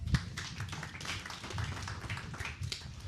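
An audience claps at a business seminar, a dense run of hand claps lasting a few seconds at moderate level, fairly close and with no talk over it.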